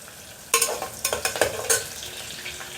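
Onions and curry leaves frying in a pan for hotel-style kushka rice, with a steady sizzle broken by several sharp, close stirring scrapes and clatters in quick succession.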